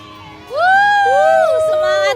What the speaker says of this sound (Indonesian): Selamat teman-teman beri tepuk tangan mahasiswa